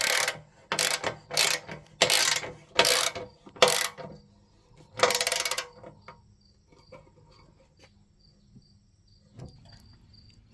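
A ratchet tightens the bolts on a Jeep bumper, using a 19 mm socket, during installation of a Fishbone bumper. Several loud, quick bursts of clicking come close together, then stop, leaving faint, quiet background.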